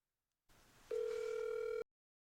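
A single steady phone tone sounds on an outgoing cold call, a long unbroken ringback or dial tone that cuts off abruptly, with faint line hiss before it and no voices.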